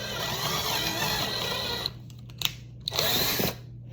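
A power drill bores holes for a large motorized wings build. Its high steady whine runs for about two seconds, then comes several short bursts with a clicking trigger, and finally one more brief run close by.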